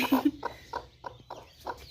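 A hen clucks in a series of short, evenly spaced calls as her chicks hatch, close by and moderately loud, with a faint steady hum behind.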